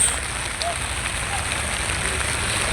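Heavy rain falls steadily on Dublar Char island off the coast, an even, dense hiss with no break across the short stretch and a faint voice in the background.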